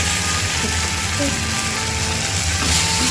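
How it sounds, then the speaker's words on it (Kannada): Potatoes frying in a pan give off a steady, loud sizzle with a dense crackle that runs unbroken from start to finish. "ನೋಡಿ ಇಲ್ಲಿ ಫ್ರೈ ಆಗ್ತಾ ಇದೆ"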